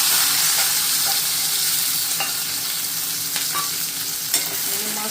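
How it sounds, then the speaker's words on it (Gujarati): Garlic sizzling in hot oil while vegetables for a vayda shaak are cooked, a steady broadband hiss with occasional scraping stirs and light clicks, close and continuous without voices. "તેલ ગરમ થઈ ગયું છે, એમાં લસણ નાખીશું."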